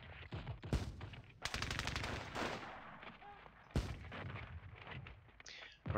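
Anti-tank rifle firing in a World War II video game, with loud sharp blasts at wide intervals and shorter bursts of gunfire between them, plus some scattered background battle noise.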